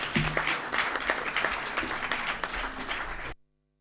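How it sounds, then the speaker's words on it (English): Sustained audience applause at an international partnership forum in Nigeria, dense clapping held steady for over three seconds before cutting off abruptly. "a big round of applause to the panelists."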